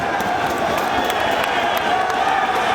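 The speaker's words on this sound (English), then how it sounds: "you hear the name the crowd is calling. They want Ricky Steamboat." A packed crowd at a Ring of Honor wrestling event roars and chants continuously, a dense, steady wall of voices and cheering filling the arena.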